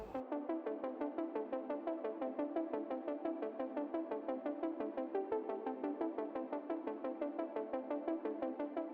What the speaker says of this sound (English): So I have there like a pluck that's kind of like really repetitive